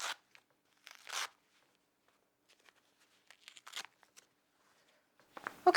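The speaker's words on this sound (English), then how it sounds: "let's undo the Velcro" Velcro peeled apart on a knee brace, a few short, scratchy ripping tears separated by silence, close and crisp, with a louder burst of tearing at the end.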